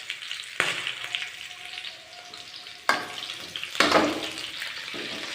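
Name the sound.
tomato and onion pieces frying in a pan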